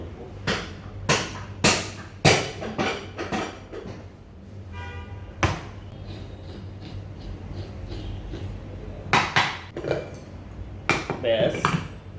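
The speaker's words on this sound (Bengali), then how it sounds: "একটু ফ্লোরে আছাড় দিয়ে নিব যাতে খুব সহজে খুলে যায়।" A broken ceiling fan part, heated to loosen it, knocked against the floor in a run of sharp, close metallic bangs with a quieter gap in the middle before several more hits.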